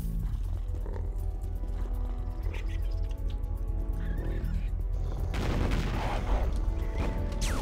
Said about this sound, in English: Someone's got the big cannon shooter.